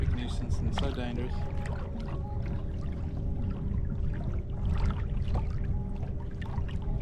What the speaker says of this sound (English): You can hear the ski boat just around me.